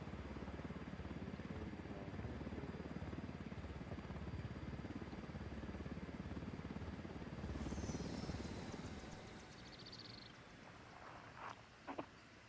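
A helicopter engine in a PS5 military shooter drones loud and steady, then thins out toward the end with a few faint clicks.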